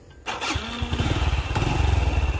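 A 2020 Honda Wave 110 motorcycle engine fires up after a brief quiet moment and settles into a close, loud, steady putter with a rapid pulsing rhythm.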